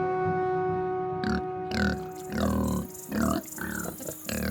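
A black pig grunts several times in short, irregular bursts close by, over a steady tonal drone of background music.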